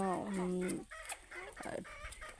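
Local desi chickens cluck close by at a backyard home flock, a burst of harmonic squawking calls at the start followed by shorter broken clucks over soft background noise.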